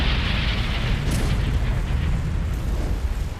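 Dramatized volcanic eruption in ancient Siberia hurling lava high into the air: a dense, sustained roaring blast with deep rumble and hissing rush, loud and continuous, no speech over it.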